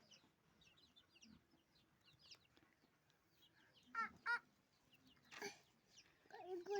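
Village chickens cluck in short, scattered bursts, fairly faint at first and then louder clucks around the middle and end, over a quiet outdoor background with occasional other noises.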